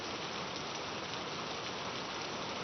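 Steady heavy monsoon rain in the Sahyadri mountain ranges of Satara district, Maharashtra, pours down as a dense, continuous hiss with no pauses and no voices.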